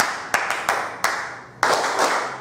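Several sharp hand claps from a group of teachers at a school training session, a few separate bursts and then a sustained round of clapping near the end, close and loud in a reverberant room.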